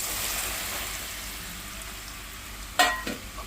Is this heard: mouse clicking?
no